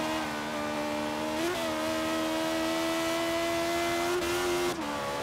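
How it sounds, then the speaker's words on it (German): Forza Horizon 3 BMW i8 fitted with a V8 engine roars steadily, its tone rising and falling with brief dips where gears shift, loud and close with no talking over it. "Klingt halt einfach brutaler mit dem Motor"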